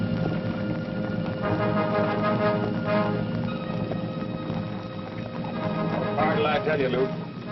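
Horse hooves clop steadily while a horse whinnies near the end, with muffled voices and background commotion throughout.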